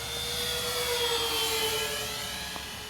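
An Avios Kingtwin 1700 twin-engine RC model airplane flies overhead at a short dirt runway, its electric motors giving a steady high-pitched whining drone with a slowly shifting pitch, moderately distant and continuous.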